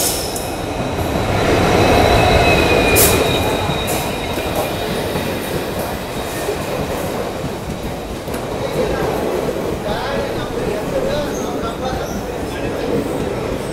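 Vijayapura–Yesvantpur special express, train 06546, rolls into Bagalkot station with a loud, steady rumble of wheels and carriages, brief squeals and clatter rising around the middle, continuous and close throughout.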